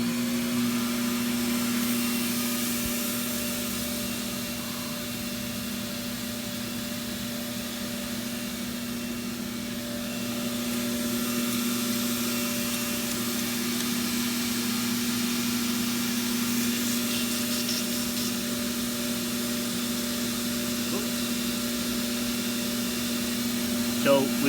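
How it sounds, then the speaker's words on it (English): An Apollo HVLP spray turbine with a compressor setup drones continuously with a steady mid-pitched hum and broadband hiss, holding a constant level throughout. "Turn your turbine on."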